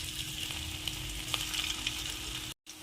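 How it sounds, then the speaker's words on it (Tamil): Bread pakoda pieces frying in hot oil on a medium flame, a steady dense sizzle with faint crackles, close and continuous, briefly cutting out near the end. "இப்போ எண்ணெயில் பொரிச்சு எடுத்துடலாம்"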